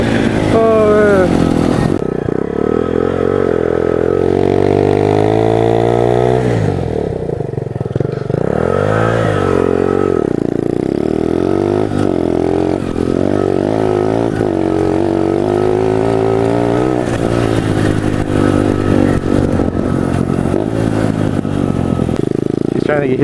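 Pit bike motorcycle engines revving and accelerating during a street drag race, rising and falling whines with clattering, loud and continuous, with people talking over them.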